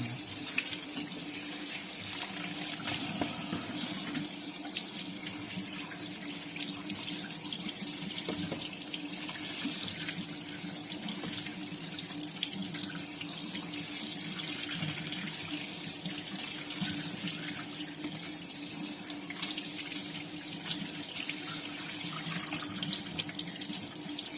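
Tap water runs steadily into a sink while a turtle is washed: a continuous close splashing gush that stays even throughout, with no voices.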